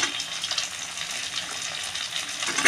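Potatoes go into hot oil left from frying a rohu fish head, and the oil answers with a steady, bright sizzle and crackle heard close and alone.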